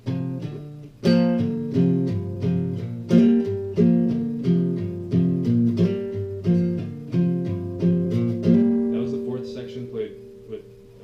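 A fingerstyle blues guitar riff played solo with plucked, rhythmic notes in repeating phrases, each phrase ringing and decaying before the next.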